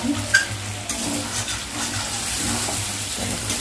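Meat being braised in a pan sizzles steadily while a spoon stirs it, with a few sharp scrapes and clinks early on over a constant frying hiss and no talking.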